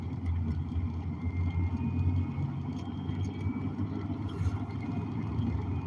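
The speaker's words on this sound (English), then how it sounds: "Sitting in traffic where I should be doing 35 miles an hour." A car engine hums low and steady while crawling through slow, congested road traffic, a continuous idling drone with no voices.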